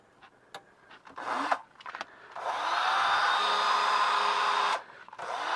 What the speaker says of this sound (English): Here's our assembled 12-volt drill. Let's give it a test